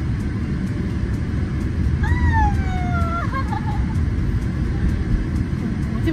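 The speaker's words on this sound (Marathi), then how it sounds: "ट्रक आली." A truck arrives with a loud, steady low engine rumble that fills the whole stretch, and a short wavering tone rises over it partway through.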